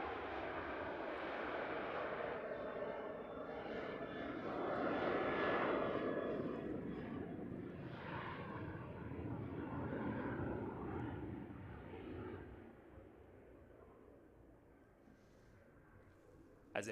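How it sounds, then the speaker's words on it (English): A Qantas airliner departs Christchurch Airport, New Zealand, bound for Sydney at sunrise, its broad jet roar swelling to a peak partway through and then fading steadily into the distance. "Qantas QFA 138 off to Sydney this morning."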